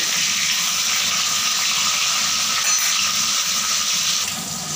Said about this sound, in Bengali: মাছগুলো লাল লাল করে কড়া করে ভেজে নেব